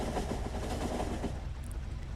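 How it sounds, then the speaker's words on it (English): Iron-carrying trains in the factory game Factorio rumble along together in a steady, dense rolling drone with faint rhythmic clacking, fading slightly toward the end. "Lots of iron trains trying to get on all at the same time."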